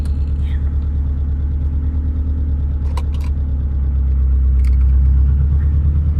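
A Subaru's engine rumbles steadily while driving, a low, loud, continuous drone with a few brief higher clicks on top, swelling slightly toward the end.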